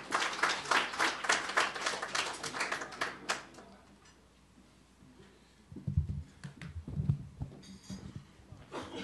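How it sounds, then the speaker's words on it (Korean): Audience applause welcoming a speaker to a lecture at a construction industry forum, a brisk burst of clapping that fades out after about three seconds, followed by quiet room noise and a few low thumps. "큰 박수로 맞아주시기 바랍니다."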